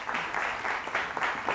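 Audience applause for a speaker at a university lecture, a steady, dense clatter of many hands clapping that fills the room without pause.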